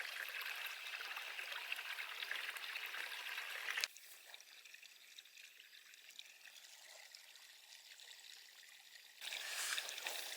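Water trickles from a spring source along a hiking trail in the hills, a soft steady babble that cuts out midway to a quieter hiss, then returns.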